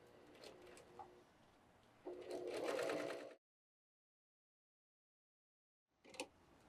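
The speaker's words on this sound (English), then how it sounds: "how you can use a serger also for piecing" A serger stitches a quarter-inch seam joining fabric strips for a table runner, running in two steady motor bursts close by, the second louder and denser, then stopping into silence before a brief clatter at the end.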